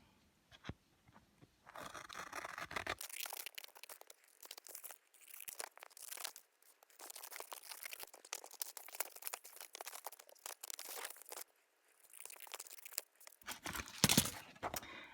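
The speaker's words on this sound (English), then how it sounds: "I'm going to use my scissors and just cut around the edge here" Close, quiet snipping and crinkling of paper being cut in repeated bursts with short pauses, ending in a louder rustle.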